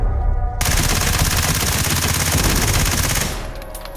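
Sustained automatic gunfire aimed at the goddess statue in Ready or Not, a loud unbroken burst of rapid shots lasting several seconds before cutting off sharply into quiet.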